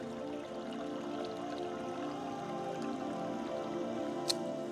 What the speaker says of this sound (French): ce petit ruisseau qui passe sur la terrasse et qui dégringole le long des rochers et qui atterrit dans un petit trou d'eau